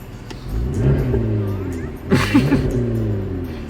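A McLaren 650S sports car engine accelerates from inside the cabin, rising and shifting in pitch with a surge midway, under faint voices.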